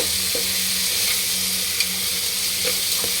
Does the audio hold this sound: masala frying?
yes